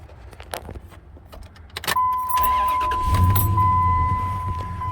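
A Dodge Ram with a suspected blown head gasket is cranked with its coolant cap off; a loud, steady engine sound takes over midway, preceded by jangling keys and clicks, with a high steady whine running through it.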